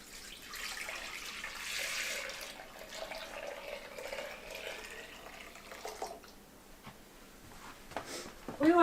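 Warm water pours steadily into a bowl during bread making, a continuous splashing stream for several seconds that thins out toward the end, with a brief knock at the finish.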